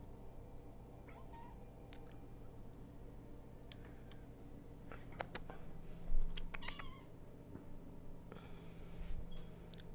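A cat meows faintly a few times near the eating area, with soft snorts and breathing, quiet against a low background hum.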